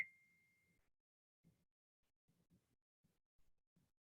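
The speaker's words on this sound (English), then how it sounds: "Text message." A single bright text message notification ding sounds once at the start and fades quickly, followed by faint soft thumps and rustles.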